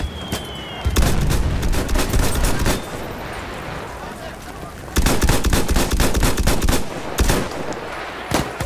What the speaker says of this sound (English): I heard gunshots over here.